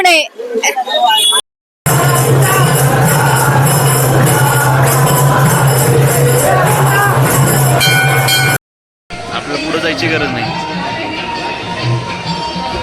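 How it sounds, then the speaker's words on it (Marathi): A dense night crowd at the Pune Ganpati pandals, a steady loud roar of many voices with a low droning hum, broken by short cuts, with someone talking close over it. "खूप गर्दी इथे"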